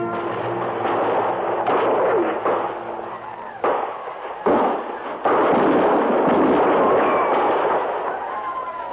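Dense, loud bursts of gunfire and explosions from a 1956 cavalry radio drama set on the frontier, crackling continuously with sharp booms and thuds, rough and close, over a noisy broadcast background.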